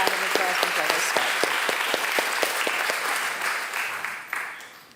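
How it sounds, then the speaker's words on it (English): Audience applause at a community panel event on youth drug and alcohol use, steady dense clapping that holds for several seconds and then tapers off toward the end. "So I would just like to give you all another round of applause before they start."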